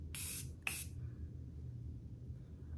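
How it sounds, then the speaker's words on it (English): Two quick bursts of makeup dissolving mist sprayed from a pump bottle into a hand, each a short sharp hiss, close and clear against a quiet room. "I'm actually gonna take a little bit of this and spray it directly into my hand."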